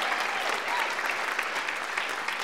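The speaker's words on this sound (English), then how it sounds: "So please give her an applause." An audience at a PechaKucha presentation night claps for a teacher seated among them, a brief, even burst of many hands that holds steady without any voices.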